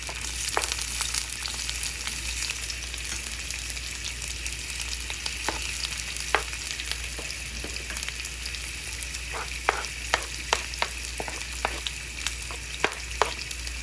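Onion frying in a pan for béchamel pasta: a steady close sizzle with scattered sharp spoon taps and stirring clicks, heaviest near the end, with no voices.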